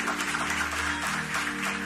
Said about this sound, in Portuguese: Pode aplaudir Jesus, que é absurdo.